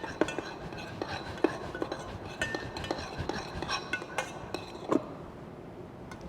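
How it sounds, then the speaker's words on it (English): A spoon stirs a pea dish with fresh mint, clinking repeatedly against the pot or bowl in a quick, irregular rhythm at close range, with no voices over it. "Give it a quick stir."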